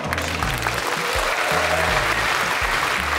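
Assembly of church delegates applauding to approve a resolution, a dense burst of many hands clapping together, loud and sustained throughout.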